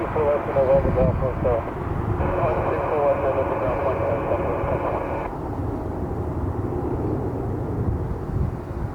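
A Frontier Airbus A320neo airliner departs, its engine noise a steady, fairly loud roar that holds through the whole clip, with people talking over it and a radio-like tone in the middle section.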